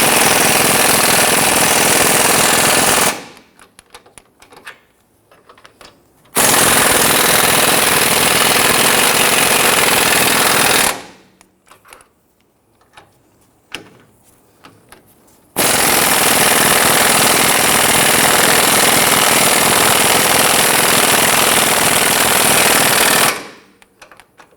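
Bolts on the sway bar bushings of a 2005-2021 Nissan Frontier are run down with an impact tool, giving three loud, sustained rattling bursts of several seconds each, separated by quieter gaps with faint clanks.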